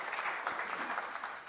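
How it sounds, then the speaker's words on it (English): Conference audience applause sounds as a brief, even patter of many hands clapping, heard at a modest distance without voices. "So I think big round of applause to all of you"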